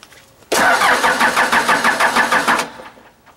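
A 4BT Cummins diesel engine in a Ford Bronco with fuel system trouble is cranked by the starter. It gives a loud, rhythmic chugging for about two seconds that starts abruptly and stops without catching, followed by quiet.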